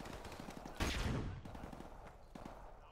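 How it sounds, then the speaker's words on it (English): Flashbang blast and gunfire in the shooter game Call of Duty Modern Warfare Remastered: a sharp loud burst near the start, then a ringing decay with scattered shots and clatter continuing beneath. "Deploying flashbang!"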